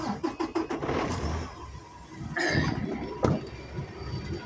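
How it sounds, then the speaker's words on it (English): A pickup truck's engine cranks and restarts after an automatic shut-off, a few rapid cranking pulses giving way to a steady, close idle with slight revving, outdoors in the countryside. "my truck's got an automatic shut off, so that's why I went ahead and shut it off and turned it back on"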